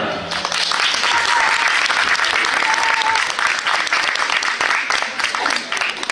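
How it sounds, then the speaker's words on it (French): Studio audience on a French television special applauds warmly, sustained dense clapping with some murmured voices and cheers underneath, loud at first and easing a little toward the end. "vous pouvez l'applaudir"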